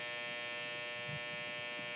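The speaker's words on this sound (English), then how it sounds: "that's my dryer, just went off" A clothes dryer's end-of-cycle buzzer gives a steady, continuous electronic buzz throughout. It is faint and sounds as if it comes from another room.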